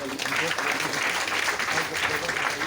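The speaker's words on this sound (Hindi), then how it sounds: "एक जोरदार ताली होना चाहिए" Steady applause from a gathered audience at a DXN health-awareness meeting, an even wash of clapping with a voice faintly mixed in underneath.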